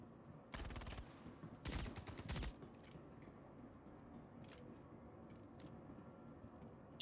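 Three short bursts of rapid automatic gunfire in a video game, sharp and fairly close, set against a quiet low background hum with faint scattered clicks afterward.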